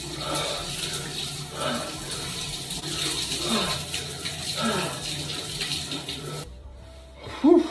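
Cold water pours steadily from a shower through ice onto a person, a continuous splashing rush that stops abruptly near the end, followed by a short vocal gasp.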